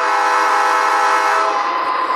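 A loud, sustained horn from a Märklin model ES44AC BNSF diesel locomotive blares steadily, then tapers slightly near the end, with no voices.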